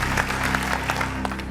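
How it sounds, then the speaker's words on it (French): An audience applauds in a dense, continuous clatter of clapping over a steady low hum, with a few louder claps standing out. "on applaudit"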